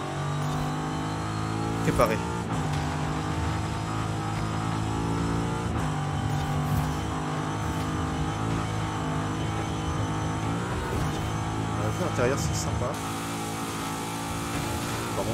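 A Chevrolet 150 Utility Sedan with its original turbocharged engine, driven in a racing video game, holds a steady droning engine note with revs rising and falling throughout, under continuous French speech.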